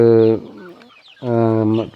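Young chickens in a cage give two loud, close, drawn-out calls separated by a short pause, with faint movement between them.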